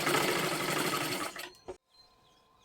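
A sewing machine runs steadily while stitching piping onto a blouse, a close, busy whir lasting about a second and a half before it cuts off into near silence.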